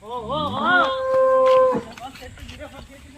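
A dairy cow, one of a group of HF Jersey and Sahiwal cattle on a farm at Jaggampeta near Rajahmundry, gives a loud, close, rising-and-falling moo lasting about a second and a half, followed by quieter farm sounds.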